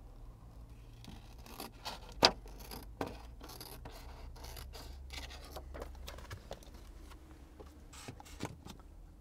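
An airport permit holder being cut down: faint, close scratching and snipping clicks in an uneven rhythm, with one sharper snap early on.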